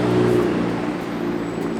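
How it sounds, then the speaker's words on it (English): Stage 3 Audi TTS with a GT2871 turbo and new downpipe accelerating hard, a loud steady engine drone with turbo spool rising over it and a faint high whistle toward the end. "it's slightly easier to hear the GT2871 spooling, and the diverter valve is clearly heard"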